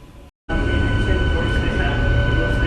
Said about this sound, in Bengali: Amghata Krishnanagar ইএমু special train Krishnanagar road station gate পার করবে